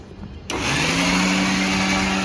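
A kitchen mixer grinder starts up abruptly and grinds roasted cashews, almonds and pistachios for laddoos, a loud steady whirring drone after a brief quiet start, no talking.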